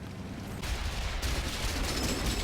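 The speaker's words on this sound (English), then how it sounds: "a friendly MS-1 pops up to show us the explosion" An explosion in the World of Tanks video game: a dense, roaring wall of blast noise that surges louder about halfway through and keeps rumbling steadily to the end, with no voices.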